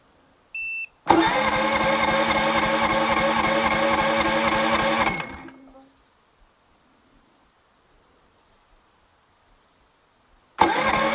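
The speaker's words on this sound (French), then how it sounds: "Allez, on va lui demander un démarrage électrique" An EcoFlow Smart Generator engine cranks on electric start and runs loudly for about four seconds, then cuts out to near silence before firing up again abruptly at the very end.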